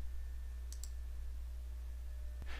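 A single soft mouse click on an OK button in Civil 3D software, preceded by a faint pair of clicks, all quiet over a low steady hum.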